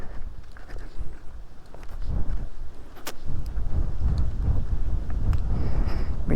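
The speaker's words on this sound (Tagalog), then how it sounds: "Medyo hangin-hangin rong panahon na." Wind on a hill at Sitio Lantay, Lombog, Guindulman, Bohol, buffeting the microphone in uneven low rumbling gusts that swell louder in the second half, with a few scattered knocks.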